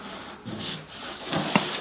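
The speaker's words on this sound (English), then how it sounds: "Grinding or sanding all these edges back." Edges of a chair build are sanded or ground back, giving short rough rubbing strokes against a wooden or putty-covered surface, close up and uneven in rhythm.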